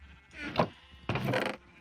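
Two short sheep bleats from Minecraft, close and clear, the second longer than the first, with a brief gap between them and no other sound.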